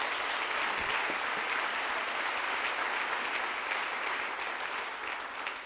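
An audience at a business awards ceremony, the Trophées des Entreprises de la Creuse, applauding in a dense sustained roll of clapping from many hands, steady and even throughout, with no voices standing out.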